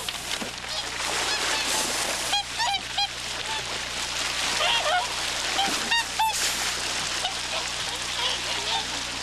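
Swans and ducks honk and quack in scattered bursts on a winter lake at Izunuma and Uchinuma, Japan, over a steady wash of background noise, several calls overlapping at moderate distance.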